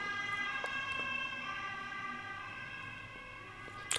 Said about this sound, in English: There's a siren going past.